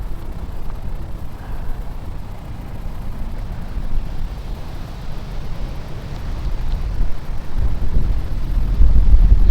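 Steady wind blows across a lake during a fishing outing, a continuous low roar and buffeting against the microphone that builds slightly louder toward the end, with no voices.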